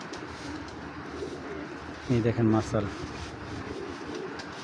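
Racing pigeons, a male among them, give a short burst of low cooing close by, with someone talking over them and steady background noise.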